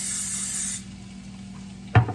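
Non-stick cooking spray hisses into a 9x13 baking dish in one sustained burst of close, bright spray that stops abruptly, followed by a short knock.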